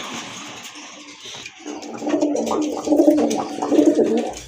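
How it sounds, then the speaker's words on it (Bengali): Pigeons, including a khaki hen, coo in low, rolling murmurs that swell and overlap, close by and fairly loud. "মাশাল্লাহ খাকির একটা মাদি কবুতর"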